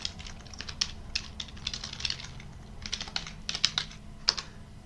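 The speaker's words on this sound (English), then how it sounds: "Oh, my typing skills are fantastic today." Rapid typing on a computer keyboard while setting up Arch Linux, a close series of sharp key clicks in uneven bursts with short pauses, over a low steady hum and no speech.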